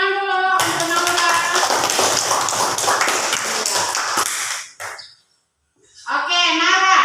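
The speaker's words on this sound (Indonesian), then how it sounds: "Tepuk tangan dulu untuk Naura." A group claps for a child named Naura, quick rhythmic hand claps over several seconds alongside a voice, then a brief silence before voices resume.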